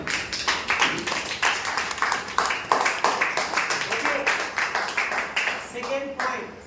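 An audience at a business strategy seminar claps in a fast, rhythmic unison, with sharp repeated hand claps close by that continue steadily before tapering off near the end.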